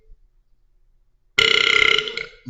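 After near silence, a single loud, long burp begins abruptly and rumbles with a rapid rattling pulse for about a second.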